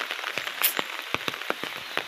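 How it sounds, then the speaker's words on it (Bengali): Light drizzle falls on a rainy riverbank path while someone walks under an umbrella, as a sparse patter of separate drops taps close by against a quiet background. "তবুও ঝিরিঝিরি পড়ছে"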